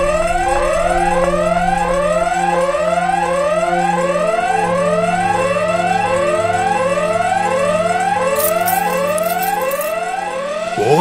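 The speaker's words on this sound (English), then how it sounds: "The fire alarm went off in the building!" A loud electronic fire alarm wails in rapid repeating sweeps in an animated cartoon, continuous and close, with a low droning tone underneath for the first half.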